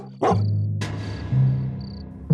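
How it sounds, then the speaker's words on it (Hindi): A dog barks three times, sharp and close, each bark separated by short pauses, with a thin high tone and soft background sound lingering between them. "उन पर एक कुत्ता भौंकने लगता है"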